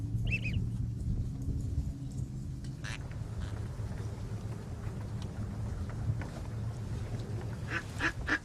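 Ducks quack faintly through steady wind and background noise at a winter duck hunt in the Louisiana marsh, with scattered calls rising toward the end.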